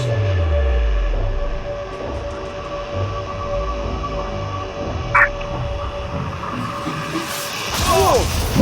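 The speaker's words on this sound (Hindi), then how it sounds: "ओह माय गॉड, ट्रेन आ रही है।" A train approaching a pit dug across the tracks, a steady rumbling roar building gradually with metallic rattles, a brief sharp clank midway, and a louder grinding surge near the end.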